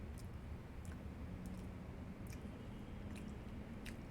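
Faint, evenly spaced crunching bites in Yakuza 4, a handful of soft crisp chews over a low steady hum, quiet and close, with no talking.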